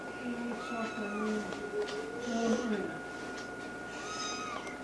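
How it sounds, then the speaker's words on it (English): A cat at a family birthday gathering in Florida purrs and meows softly close by. Short tonal meows and low purring sounds come and go under a faint background hum, with people talking quietly nearby. "You're purring."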